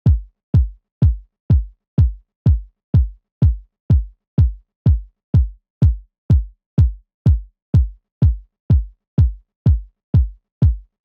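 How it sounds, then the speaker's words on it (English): A muffled, dull downsampled lo-fi kick drum for minimal house thumps alone at a steady, even tempo, each hit short and boomy with the brightness rolled off. "it down samples the kick drum"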